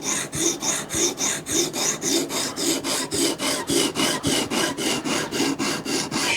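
An OTF knife blade is drawn across a hard sharpening steel in quick, even rasping strokes, about three a second, close and loud, with no voices.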